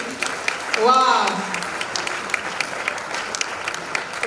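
An audience applauds steadily for Boris Nawesh at Bishop Kutina's 60th birthday celebration, with an excited vocal cheer rising early on and a voice speaking over the clapping.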